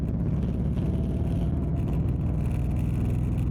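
A car engine runs on a quiet road at night, heard from inside as a constant loud low rumble and drone with no other sounds.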